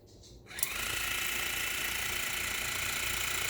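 A water flosser starts up after a short quiet moment, then settles into a continuous buzzing motor hum with a steady pulsing rattle, close and even throughout.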